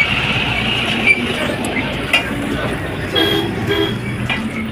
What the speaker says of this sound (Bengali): অনেক গাড়ির আওয়াজ আসছে।